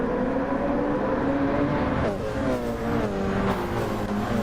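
Multi-class race cars, LMP1 prototypes and GT3 machines, roar around Daytona in Gran Turismo, their engines droning loud and continuous with overlapping rising and falling pitches as the race gets underway.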